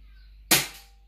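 A rifle resting on a bipod on a table fires one sharp, loud shot from nearby, out of near silence, and the crack fades quickly.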